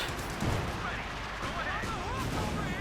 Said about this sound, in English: As they get pelted with grenades.